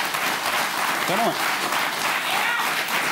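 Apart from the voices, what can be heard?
studio audience applauding and cheering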